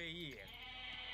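A goat bleats in a real-time strategy match, a wavering, harmonic cry lasting well under a second that fades out, followed by game ambience and faint talk.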